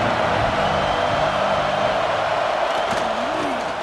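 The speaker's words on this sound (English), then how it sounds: "This crowd, full throat, splitting the eardrums and letting him know it's going to be a long day." Stadium crowd roar from a College Football 26 game, Michigan State at Ohio State, filling the sound as a dense, steady, loud wash of cheering that holds for a few seconds with no letup.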